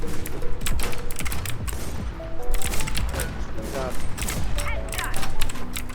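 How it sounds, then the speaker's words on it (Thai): Rapid, dense bursts of gunfire in the online shooter Warz (SiamMMO) crackle continuously across the whole stretch, with game effects mixed in and a player talking over the shots. "มันยิงกูทุกมุมเลยว่ะ"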